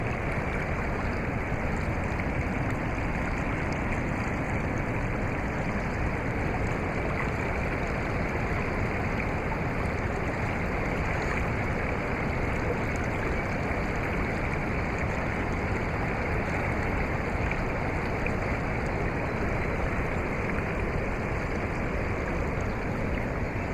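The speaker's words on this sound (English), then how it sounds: "I like to hear just the sound of the water like this." Steady rushing water of a flowing stream, loud and continuous with a broad hiss and churn, no voices.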